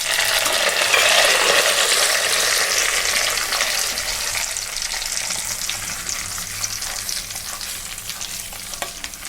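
Drumstick leaves sizzle and crackle steadily in hot homemade ghee, with a continuous loud frying hiss that eases slightly over time, heard close up with no talking.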